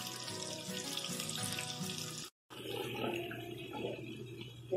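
Calabresa sausage sizzles in a pan while being fried for feijão tropeiro, a steady, fairly quiet hiss. It drops out briefly, then resumes more sparsely.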